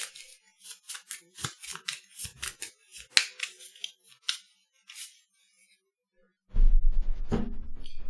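A deck of Arkham Horror cards being shuffled by hand, a run of quick crisp riffles and taps close up with short pauses, then silence before a louder burst of rustling noise at the end.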